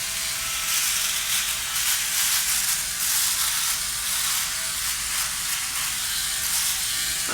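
Philips Norelco OneBlade electric trimmer cutting facial stubble with slow strokes, a steady close buzzing hum that runs for the whole clip with no talking.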